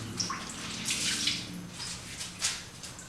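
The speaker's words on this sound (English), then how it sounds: "Wash my hands, okay?" Tap water runs steadily into a kitchen sink as hands are washed, a soft continuous splash with brief louder swells, heard alone with no talking.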